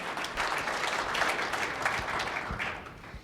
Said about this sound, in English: I think a big round of applause to our panelists for already improving things.